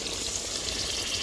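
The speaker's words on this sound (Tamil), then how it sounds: "அந்த மட்டன் வேக வைக்க 1 டம்ளர் தண்ணி சேர்த்துக்கலாம்." Water poured steadily into a pot of mutton for Tamil-style mutton biryani, a dense continuous rushing pour, close and alone without voices.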